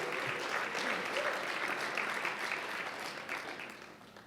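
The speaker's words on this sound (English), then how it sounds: "let's give a round of applause to the last group" An audience applauds a group that has just performed at an MLK Day event, a dense, steady round of clapping that holds strong and then slowly tapers near the end.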